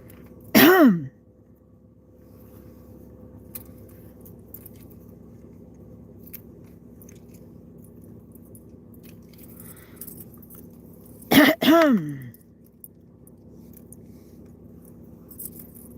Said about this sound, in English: Forgive me and all of the little coughing over here